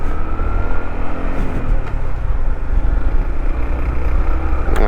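Honda CT125 Hunter Cub motorcycle fitted with a Takegawa clutch, engine pulling steadily through the gears on a ride, loud and continuous, with wind rush and a pitch that rises and shifts.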